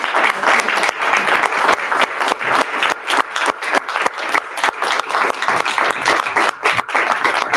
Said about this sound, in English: Can everyone join me for a round of applause for